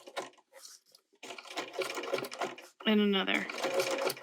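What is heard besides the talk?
sewing machine stitching and pivoting fabric gift tag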